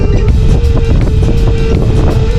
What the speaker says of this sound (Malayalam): ശക്തമായ കാറ്റിങ്ങനെ അടിക്കുന്ന കാരണേ